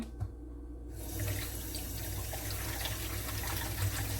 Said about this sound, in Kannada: ಈಗ ಸ್ವಲ್ಪ ಸ್ವಲ್ಪ ಮಾಡಿ ಇದಕ್ಕೆ ನೀರು ಹಾಕುವ